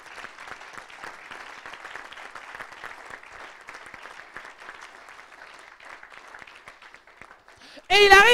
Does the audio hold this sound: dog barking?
no